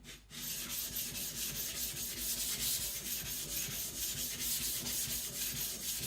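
A custom nakiri kitchen knife of stainless steel scrapes back and forth on a whetstone in quick, regular strokes, a close, steady gritty rasp running without pause and without talk.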